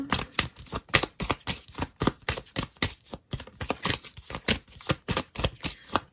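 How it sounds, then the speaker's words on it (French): Tarot cards riffled and shuffled by hand, then drawn from the deck, in a steady run of crisp, close flicks and slaps with brief pauses and no talk. "Alors, je prends quelques cartes."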